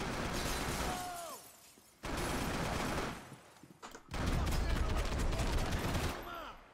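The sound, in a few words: gunfire in video game Max Payne 3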